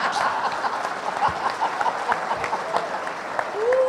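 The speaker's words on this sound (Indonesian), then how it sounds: "yang keras tepuk tangannya" An audience at a Buddhist Dhamma talk applauds steadily, a moderately loud patter of many hands with a few scattered chuckles.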